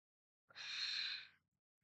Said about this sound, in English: You hear the snoring.